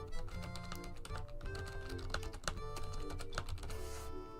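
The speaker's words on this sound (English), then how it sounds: "It only goes through if you're not typing." Rapid clacking of fingers on a computer keyboard, dense irregular keystrokes close to the microphone, with brief pauses between bursts and no talking.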